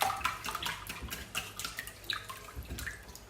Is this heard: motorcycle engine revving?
no